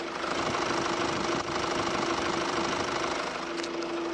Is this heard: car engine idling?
yes